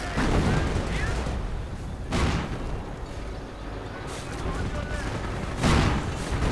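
Artillery and gunfire roar through a World War II strategy game battle with 25-pounder guns, as dense continuous rumbling with repeated heavy blasts and volleys, loud and close, with no talk over it.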